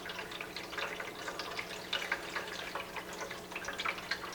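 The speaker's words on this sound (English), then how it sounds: "the pump's going to push the water up to the top, and it's going to trickle its way out." Steady trickling water with small drips and splashes from a Drinkwell pet drinking fountain, its pump pushing water to the top, continuous and close, with a faint low hum underneath.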